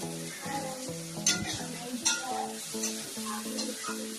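Onions frying in a pan while being stirred: steady sizzle with repeated scraping and clinking of a spoon against the pan, close and moderately loud, with no talk.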